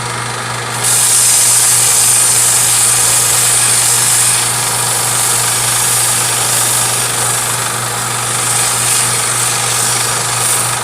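Steady, continuous whirring of a spinning lathe with a high, hissing sanding tone on top, constant and close, with no talking.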